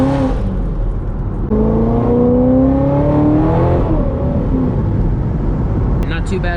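A 700-horsepower supercharged Corvette pulls hard on a highway, its engine note climbing steadily through the revs from inside the cabin, loud and continuous with a brief shift dip before it winds up again.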